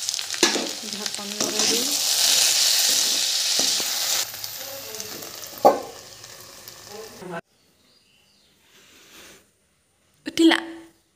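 Panch phoron spices sizzle and crackle loudly in hot oil for a fish curry, a steady close frying hiss that fades out midway, followed by quiet, a short clatter and a few spoken words.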